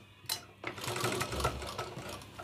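A sewing machine stitches a round Chinese-style collar neck, running in a steady close whir of rapid needle strokes after a brief start-stop at the beginning, with no voices.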